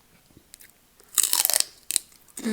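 Celery sticks dunked in Caesar salad dressing are bitten and chewed up close, with sharp, wet crunches in a few bursts separated by quiet pauses.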